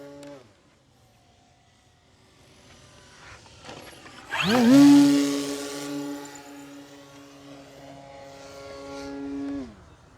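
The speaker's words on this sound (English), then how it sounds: "it's so much fun flying this plane" An FMS Beaver 2 m RC model airplane flies past, its electric motor and propeller whine swelling loudly and steadily, then holding a sustained tone before easing off, with no talking.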